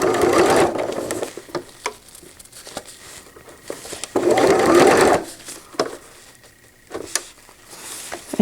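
A sewing machine stitches a cloth diaper cover with gussets in short bursts, running loud for about a second, pausing with faint clicks and rustles, then stitching again in a longer burst, alone without talk.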